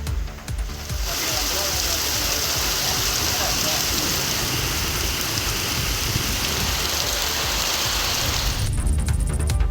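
Steady rain falls around Periyakulam, a dense, even wash of drops on surfaces that starts abruptly and holds for several seconds before cutting off.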